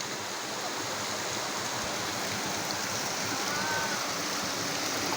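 A river stream flows in a steady, dense rush of water, constant and fairly loud throughout, with no break and no voices standing out.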